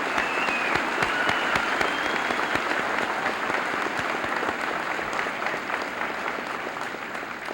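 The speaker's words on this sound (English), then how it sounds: "Please give these winners a nice round of applause." Sustained applause from a large high school senior assembly audience, a dense, even clatter of clapping that holds steady throughout and fades slightly at the end.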